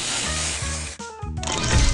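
A spray booster effect from the Seadogs Scallywags mobile game: a steady, bright hiss layered over upbeat game music and chiming tones, with a brief dip near the middle before the hiss and music swell again.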